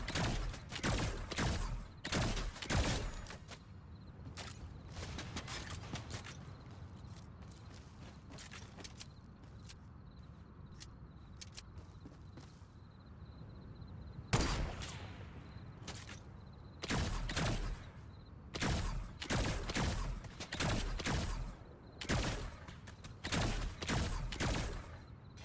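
Rapid bursts of energy rifle fire from a Fortnite trios match, loud close volleys in clusters separated by brief lulls, with footsteps and game clatter between, no talking.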